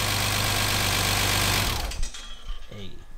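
A BMW M3 engine running on its first start idles with a loud, steady rumble, then cuts off partway through, leaving quiet handling noises and a brief voice.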